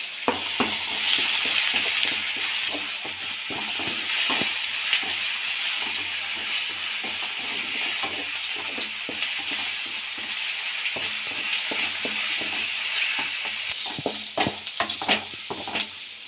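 Small diced potato pieces fry in hot oil, a bright continuous sizzle up close, broken by frequent scraping stirs and light utensil taps against the pan.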